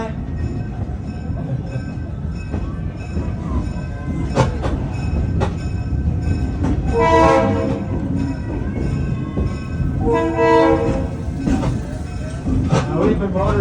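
A street-running train rolls down a town street, its horn sounding in two long blasts with wheels rumbling and clattering steadily underneath, close and loud.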